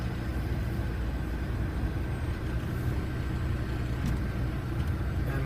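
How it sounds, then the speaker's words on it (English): From inside the cab, a truck rolls forward at about 5 mph for a service brake test, its engine giving a steady low rumble with faint rattles and no voices. "I'll pull forward at 5 miles per hour, apply my brakes, and make sure it's not pulling left or right"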